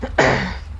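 A single rough cough, close and fairly loud, from a man with a newly developed cough during a voice-acted playthrough of Vampire: The Masquerade – Bloodlines, followed by a quiet tail.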